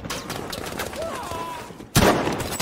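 Gunfire in the World War II shooter Battlefield V, a burst of sharp shots with a loud report near the end over busy game ambience, with faint speech-like tones in the middle.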